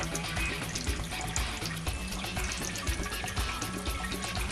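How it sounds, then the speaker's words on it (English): An aquarium pump primed with its dip tube in water discharges a steady stream onto a platform, giving a continuous close splashing and gurgling flow throughout with no talk. "once it gets primed, it will actually discharge water out here onto a platform"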